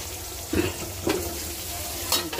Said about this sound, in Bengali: তো পটল ভাজা হতেছে।